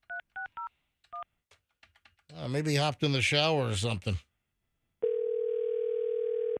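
A phone dials out on a call: a few short touch-tone beeps, then someone talks briefly, followed by a steady, loud ringback tone near the end.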